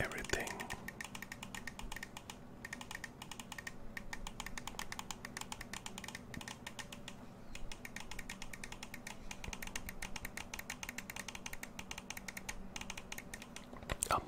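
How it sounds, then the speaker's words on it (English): Game controller buttons, including the shoulder bumpers, clicking in a rapid, continuous stream of small close-up clicks at a quiet level, with a voice talking over them. "everything is very clicky. Even the shoulder bumper buttons right here on top"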